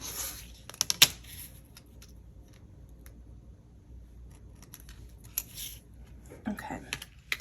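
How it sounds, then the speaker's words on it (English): Scissors snip paper planner stickers close by, a quick cluster of crisp cuts early on and a few more later, with quiet handling of paper in between. "And then cut this out a little bit more."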